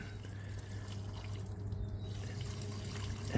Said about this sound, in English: now we're just tipping the water out, which is eventually going to go down into that garden